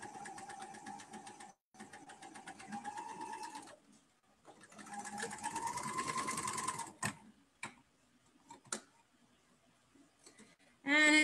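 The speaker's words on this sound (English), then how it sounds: "So on an overlocker, it's very easy to ease things in. So, and we'll stitch." An overlocker with a standard presser foot runs in bursts while stitching and gathering fabric, a fast close mechanical whir that stops and restarts, followed by a few clicks and short handling noises.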